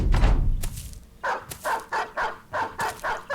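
War dogs in the video game Battle Brothers give a rapid series of sharp, evenly spaced barks after an initial noisy scuffle, loud and close.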